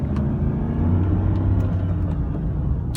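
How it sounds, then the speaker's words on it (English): A 1997 Lincoln Mark VIII coupe's V8 engine accelerates with a steady, deep rumble and low droning tone that holds loud and close throughout, with no talking over it. "A big V8 screamer rage from this car."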